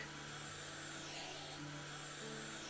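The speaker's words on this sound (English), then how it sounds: "Is this a vacuum cleaner that I'm using?" A vacuum cleaner used to clean windows in the video game House Flipper, a steady, loud whirring drone with a faint tonal hum, running alone without pause.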